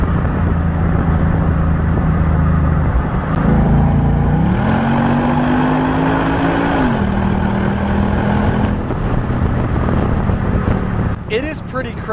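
Ford Mustang GT engine droning from inside the cabin while driving a canyon road, a steady loud hum whose pitch climbs and then settles as it accelerates, with a voice talking over it.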